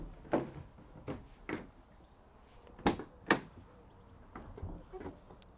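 Several clunks and thuds of a 2017 Ford Transit Custom van's rear doors being handled, spaced irregularly, with two sharper bangs near the middle; no voices.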